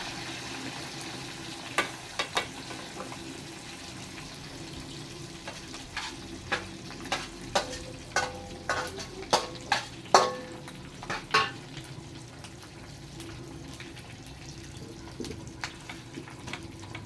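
Food fries in a wok with a steady low sizzle, punctuated by a series of crisp clinks and scrapes from stirring.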